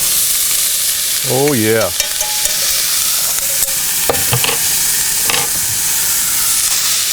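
Sauerkraut sizzles and hisses steadily in a pan while camp cooking German brats, a loud continuous fry with a few clatters of stirring; a voice briefly speaks over it near the start.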